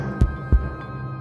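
A heartbeat sound effect in a film trailer gives two deep, close thumps in quick succession over a low steady hum.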